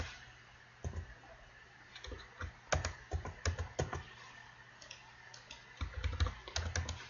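Computer keyboard typing while entering an AutoCAD command, heard as close, crisp clusters of key clicks in irregular bursts with brief pauses, alone and quiet.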